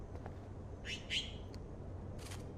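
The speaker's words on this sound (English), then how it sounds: "Do you hear that bird?" A bluebird in a bathroom in the video game Life is Strange gives a few short, bright chirps and a brief trill, scattered over a quiet room hum, moderately near and clear with no speech.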